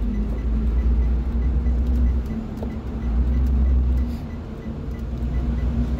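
A Thomas Built HDX school bus operated by Tumbleweed Transportation rumbles nearby with a steady low engine drone and hum that swells and eases, blending into surrounding traffic noise.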